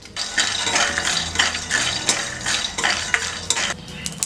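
Grains and nuts dry-roasting in a metal pan are stirred with a utensil, making loud repeated scraping and rattling strokes in an uneven rhythm, with no talk.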